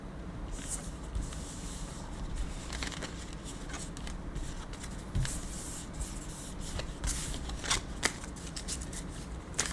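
Tarot cards being shuffled by hand, a close run of papery riffles and flicks in uneven bursts with soft crisp snaps, steady and moderately loud with no talk.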